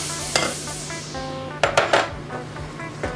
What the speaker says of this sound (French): Et là, on fouette. On fouette bien.